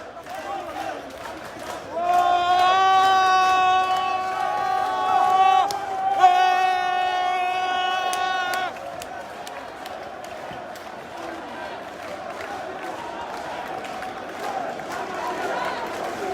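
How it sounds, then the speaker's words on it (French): A large crowd of protesters marches through Paris streets toward Place de la République, a broad murmur of many voices, with a chanted or sung passage rising over it in the middle, under a reporter's commentary. "c'est une foule assez importante qui se dirige vers la place de la République"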